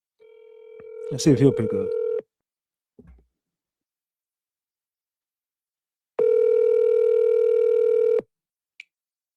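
Phone dialing out, with a short burst of keypad tones over a steady tone, then a silence before a long outgoing ring tone, ending with a brief click.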